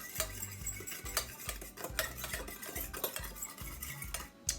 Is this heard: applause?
no